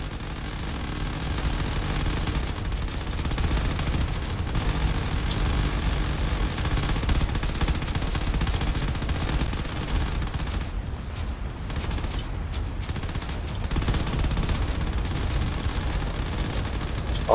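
Dense, continuous video-game gunfire and explosions roar without pause as weapons rain fire onto a defended base, a heavy barrage with rapid bursts layered throughout.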